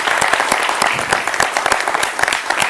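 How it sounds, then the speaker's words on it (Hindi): A studio audience at a televised Madhya Pradesh election discussion breaks into brisk, loud applause welcoming guest journalist Rashid Kidwai, a short burst of sharp, closely packed claps. "ये राशिद साहब के लिए तालियां हैं"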